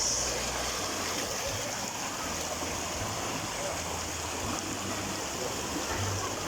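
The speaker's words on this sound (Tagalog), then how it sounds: "Lakas ng agos oh." A strong river current rushes steadily at an outing spot in Daraitan, Tanay, a continuous broadband wash of flowing water close by, with low rumbling underneath and no break through the whole stretch.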